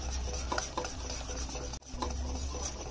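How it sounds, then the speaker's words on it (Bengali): A spoon stirs modak mixture with palm pulp in a pan, soft repeated scraping and tapping at a steady pace, close and quiet, with one brief drop in sound partway. "দু চামচ তালের নোট দিয়ে এইভাবে এটা নেড়ে নেব।"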